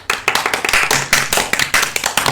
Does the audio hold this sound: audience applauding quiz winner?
yes